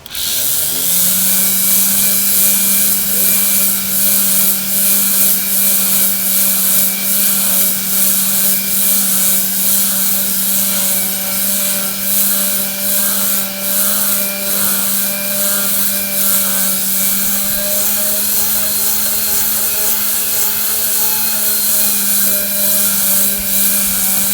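A power sander grinds rust off the web and bottom of a steel rail, a loud, unbroken high-pitched whine with a steady droning tone and rough abrasive hiss that holds nearly constant throughout.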